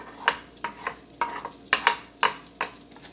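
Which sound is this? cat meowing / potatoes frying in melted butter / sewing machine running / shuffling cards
potatoes frying in melted butter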